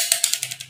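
A digital multimeter's rotary switch turns through several positions, giving a quick run of five or six crisp, close clicks in under a second.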